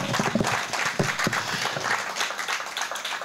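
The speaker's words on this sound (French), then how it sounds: "Est-ce qu'on peut applaudir comme il se doit," An audience at a conference applauds, a brief burst of dense clapping close by with a few sharper individual claps, steady for a few seconds.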